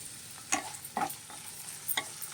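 Onion pieces fry in hot oil in a kadai, a continuous sizzle broken by several crisp scraping strokes of a spatula at a loose, uneven rhythm.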